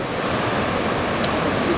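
Small, low-powered ocean surf at the beach in Anglet rolls in as a steady, close wash of broadband noise that holds at an even level throughout, with no voices.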